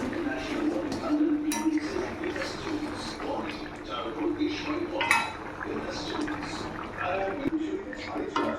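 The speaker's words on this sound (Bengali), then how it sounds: "ঘিটা দেওয়ার পরে একটু নাড়িয়ে নিচ্ছি।" A spoonful of ghee stirred in a cooking pan while making jackfruit kofta: close, repeated scraping and light metallic clinks, continuing under a person talking.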